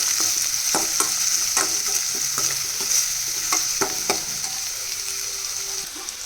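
Small chopped onions frying in a pan with cumin and fennel seeds, a loud steady sizzle close by, broken by a regular run of sharp scraping stirs, with no talking.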